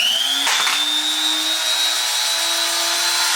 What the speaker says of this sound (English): I turned the spindle on.